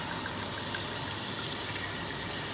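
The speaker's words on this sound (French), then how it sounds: "nous allons déglacer avec du vin blanc" White wine pours into a hot pot to deglaze a stuffed squid and tomato sauce dish, a steady, continuous rushing pour that holds even for a couple of seconds with no voices.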